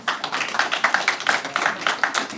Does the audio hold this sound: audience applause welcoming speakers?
yes